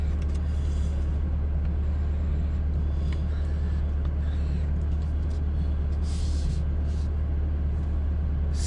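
Steady low engine and road rumble from inside a moving 2021 Corvette C8 Z51, continuous and loud throughout, with a few brief higher rattles and hisses on top.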